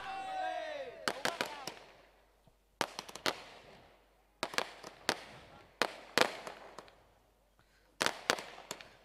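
Fireworks and firecrackers going off at a prize-distribution ceremony, a series of sharp, distant cracks and pops in irregular bursts, preceded by a brief whistling rise.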